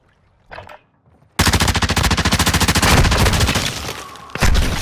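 Sustained automatic gunfire in a canal gunfight video game, a loud rapid burst running for several seconds after a brief quieter sound, with no talking.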